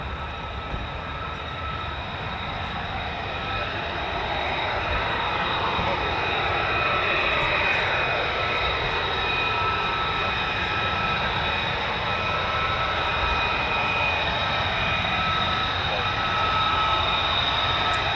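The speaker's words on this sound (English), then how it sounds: "So more F-35s just taxiing now." F-35 fighter jets taxiing at an air force base, a steady, loud roar and whine of jet engines that swells slightly over time, with a whistling high tone running through it.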